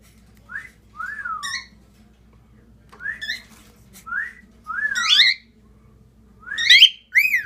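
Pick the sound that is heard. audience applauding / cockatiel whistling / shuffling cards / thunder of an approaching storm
cockatiel whistling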